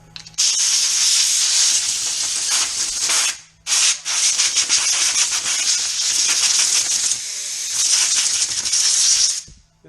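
Compressed air blasts grease off a part during cleaning work, a loud, close hiss that runs continuously, cuts out briefly for a moment, then resumes and holds steady to the end.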